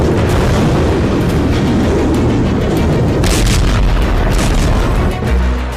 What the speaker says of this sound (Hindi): ताबड़तोड़ बम धमाका,